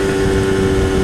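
Aprilia RS125 two-stroke motorcycle held at about 6,000 revs in top gear near 50 mph, giving a loud, steady, buzzy engine drone with a constant pitch and no talking.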